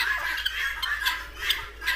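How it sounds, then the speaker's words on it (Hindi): A turkey gobbles and calls at a farm house among other fowl, a rapid warbling, chattering call repeated across the moment, fairly close and loud over a steady low outdoor hum. "ये है टर्की"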